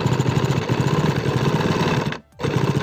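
A sewing machine stitches narrow piping onto a baby boy's kurta with a steady, fast rhythmic whir close up, stopping for a moment before running again.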